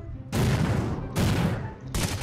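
Shotgun fire in the Rules of Survival battle game: three loud, close blasts, each with a broad roaring tail that fades before the next shot.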